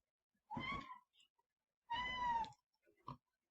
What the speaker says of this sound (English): Boy, my cat wants attention today.